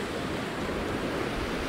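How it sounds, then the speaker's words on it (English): Sea waves crash and swirl around the feet on a shore, a continuous dense wash of surf with no breaks, moderately loud and close. "And as the waves are crashing around the feet, they're swirling and they send the water off in different angles."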